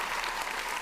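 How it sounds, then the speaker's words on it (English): Audience applause at a tech pitch event during a trade show, a dense, steady burst of clapping filling the room, brief and fairly loud. "First applause."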